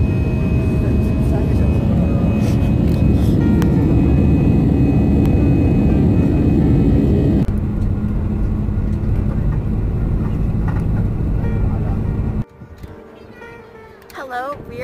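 An airplane on a flight out of an airport makes a loud, steady engine rumble that fills most of the stretch, then drops away abruptly to a quieter scene with faint voices.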